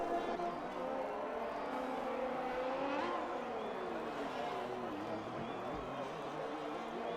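Ferrari race car engine in a racing video game, a strained whine rising and swooping as the car passes, heard under continuous race commentary.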